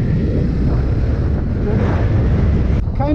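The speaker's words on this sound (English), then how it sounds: "Kind of windy out here again, man." Strong wind blows steadily outdoors in a continuous low roar and buffeting against the microphone, with a brief higher whistling tone near the end.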